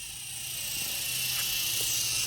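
Helicopter flying almost directly overhead during a close approach, a steady broad rotor and turbine roar that builds slightly in loudness across the clip, with no talking.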